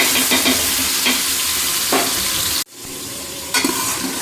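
A ground paste of onion, garlic and ginger with coriander and turmeric fries in hot oil for a meat-trotters sambar, giving a loud, continuous sizzle with stirring scrapes and a brief drop-out partway through.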